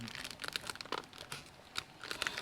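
Plastic wrapper of a Euro snack cake being torn open and crumpled, a close, busy crinkling with sharp rips scattered through.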